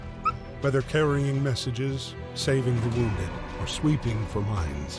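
A dog in the war game Valiant Hearts whimpers and lets out several short yips and barks, close and clear, while a narrator speaks over it.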